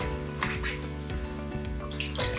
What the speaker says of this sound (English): I'm just going to add a little bit of the coconut water